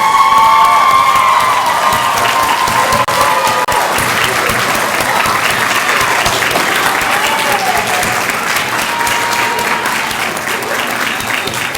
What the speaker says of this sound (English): How about another big round of applause for these wonderful graduates?